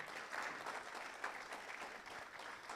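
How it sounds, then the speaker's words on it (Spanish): A church congregation claps together during a worship vigil, steady dense applause at a moderate distance, faintly recorded with a murmur of voices beneath. "Vamos a darle un fuerte aplauso al Señor."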